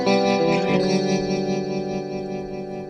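Sustained electric guitar chord with a rapid, swirling warble from a fast-rotating speaker, thick and slightly distorted, ringing out and slowly fading.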